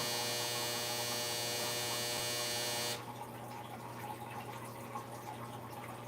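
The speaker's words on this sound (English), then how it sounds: "that dryer likes to buzz twice" A clothes dryer's buzzer sounds one steady, harmonic electric buzz for about three seconds, then cuts off abruptly, leaving only quiet room noise.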